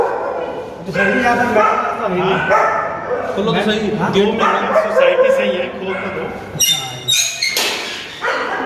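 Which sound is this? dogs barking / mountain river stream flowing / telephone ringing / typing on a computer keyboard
dogs barking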